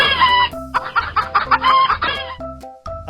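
A fighting rooster clucks and squawks loudly and close by in a rapid string of agitated bursts, with brief pauses near the end and no speech.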